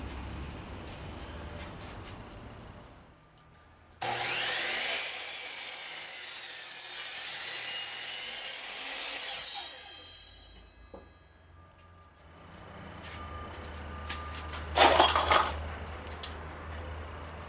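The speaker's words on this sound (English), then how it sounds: "I'm going to go ahead and cut the slats at 60 inches, so there's going to be an inch overhang" Saw cutting wooden workbench slats to length, a loud burst of harsh cutting noise lasting several seconds, followed by quieter knocks and a brief clatter of wood.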